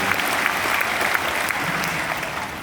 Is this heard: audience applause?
yes